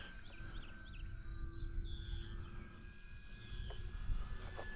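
An FMS 1500mm Cessna 182 radio-controlled model airplane flies at a distance, its faint whining motor drifting in pitch over low, rumbling outdoor background noise.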